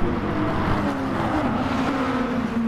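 Super GT race cars run side by side at Autopolis while overtaking slower 300-class cars, making a steady, loud engine drone whose pitch slowly falls as they pass.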